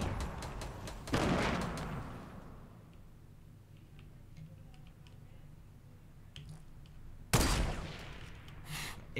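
Two loud, sharp sniper shots ring out in a video game match, one early and one near the end, with a quiet stretch of faint game noise between them.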